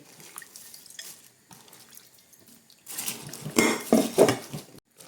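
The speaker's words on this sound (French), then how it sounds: "Pour être sûr que c'est propre, je vais les rincer, les fleurs là." White hibiscus flowers rinsed by hand in a basin of water, with splashing, sloshing and light clinks of a bowl, quiet at first then louder bursts of swishing water in the second half.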